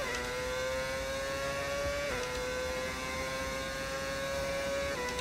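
A Formula 1 car engine in the F1 25 racing game holds a steady high-pitched whine at near-constant revs, with one brief dip around a gear change, loud and continuous with no speech.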